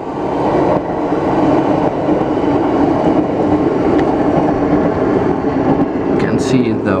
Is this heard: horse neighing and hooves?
no